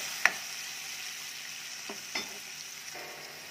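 Tomatoes dropped into onions already browned in a pan for a spicy sprouted moth bean curry, giving a soft steady sizzle with a couple of sharp clatters and stirring scrapes.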